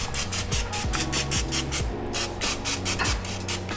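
Cooking spray hisses into the inside of small mini bowls held over a kitchen sink. Short, rhythmic bursts repeat close to the listener, with no talking.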